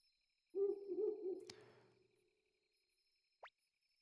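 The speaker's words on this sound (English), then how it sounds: "It's nighttime. You can tell because I hear crickets. Ooh, and an owl." A single owl hoots in a nighttime scene of the Suikoden video game, low and fairly faint against near silence, trailing off before a brief high chirp.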